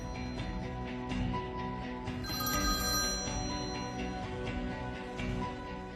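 An electronic phone ringtone chimes repeatedly, mixed with music, fairly loud and close, with no one speaking.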